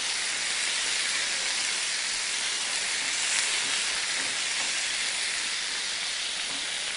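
Ginger garlic paste and chicken sizzle in a hot pan, a steady, even hiss with no talking over it.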